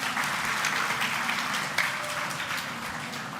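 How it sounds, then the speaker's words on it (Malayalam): Warm applause from a congregation inside Trinity Mar Thoma Church at a farewell honouring a priest, many hands clapping steadily in a reverberant hall, with one sharper accent midway. "ഒരു നല്ല ക്ലാപ്പ്."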